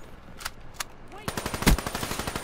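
Rapid automatic gunfire in a Call of Duty: Black Ops 3 multiplayer match, a few separate shots and then a quick rattling burst with one heavy blast, all close and loud.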